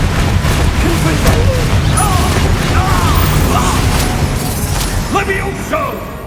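Fire spell blasts from Hogwarts Legacy, a continuous roar of magical bursts and crackling booms, with sustained low rumble and occasional spell chimes, layered under a voice calling out incantations.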